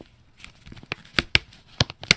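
A tiny, well-worn paper sketchbook booklet being handled and crumpled close up, a few sharp crinkling and tearing-like crackles in quick irregular bursts, alone without talk.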